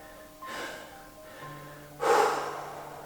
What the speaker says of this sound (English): Heavy breathing by me.